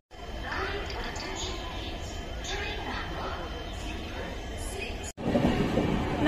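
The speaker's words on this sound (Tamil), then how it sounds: "நம்ம ட்ரெயின் வந்துருச்சு." The 12610 MGR Chennai Central superfast express arrives at a railway station with a steady, broad rumble. Voices and station noise carry over it, and there is a brief cut near the end.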